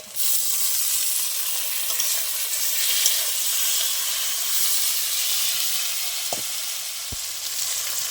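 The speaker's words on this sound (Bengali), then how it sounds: "এবার সব ভালো করে আমি একটু ভেজে নেব আমার পেঁয়াজ দিয়ে সব একসাথে ভালো করে ভাজা হয়ে গেছে" Onions and two large chopped tomatoes fry in a pan with a loud, dense, continuous sizzle and hiss up close. Near the end a couple of brief knocks from a utensil cut through, with no talking.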